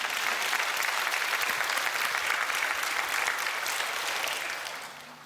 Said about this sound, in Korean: 박수 쳐줘야지